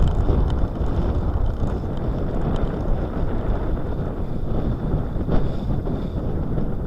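Steady wind buffets the microphone aboard a sailboat over a low, constant rumble of the boat moving through flat, calm sea off Scotland, with no speech.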